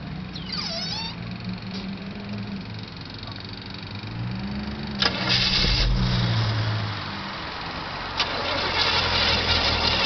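A 1928 Ford coupe hot rod engine cranks and catches around five seconds in, settling into a loud, steady idle with a second surge near the end; background rumble throughout, no talking.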